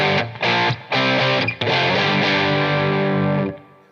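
Electric guitar through a Keeley blues driver overdrive pedal on one of its settings: a few driven chord stabs followed by a sustained ringing chord that fades, close and loud with a warm distorted tone.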